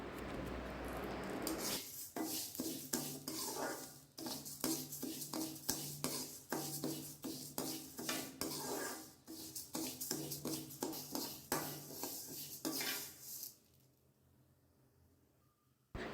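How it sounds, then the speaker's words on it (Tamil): Black urad dal roasting in oil in a kadai over a low flame, heard as a long run of quick, close stirring scrapes and soft rattles in an irregular rhythm, then fading to near silence. "இதையும் நம்ம லோ ஃப்ளேம்லேயே நல்லா வறுத்து எடுத்துக்கலாம்"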